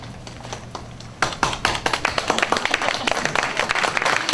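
After a brief quiet moment, an audience at a lecture in Suncheon, South Korea, breaks into applause, many hands clapping briskly and fairly close, sustaining to the end.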